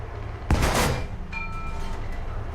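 A tank cannon fires in War Thunder, a sharp loud blast followed by a rumbling decay, then a quieter mechanical hum of the vehicle with faint tonal whines.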